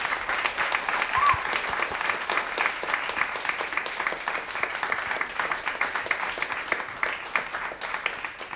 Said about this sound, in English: One more round of applause, please, for all of our performers.